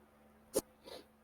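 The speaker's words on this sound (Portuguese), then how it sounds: "Dei uma paradinha para dar um espirro." A single short, sharp sneeze, followed by a softer breathy exhale, in an otherwise quiet room.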